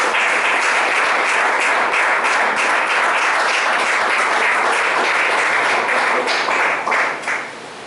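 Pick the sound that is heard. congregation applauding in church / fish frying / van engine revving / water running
congregation applauding in church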